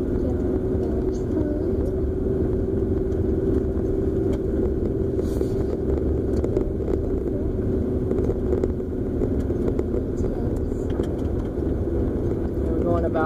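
A car climbs a hill in first gear at about 16 mph, its steady engine drone and road rumble running continuously throughout, with people talking quietly over it.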